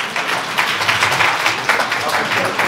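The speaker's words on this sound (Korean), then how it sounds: "박수 좀 보내주세요" Audience at a lecture forum applauding, a dense, steady patter of many hands clapping at close range for a few seconds without a break.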